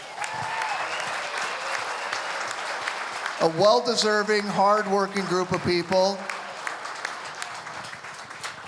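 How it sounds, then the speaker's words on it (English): Applause at the Greater Stillwater Chamber gala, a steady wash of audience clapping throughout, with someone speaking over the middle section and the clapping continuing around him. "how about we give everybody a round of applause?"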